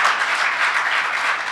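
A church congregation claps in praise, a brief, dense burst of applause that stays even and fairly close for its whole length.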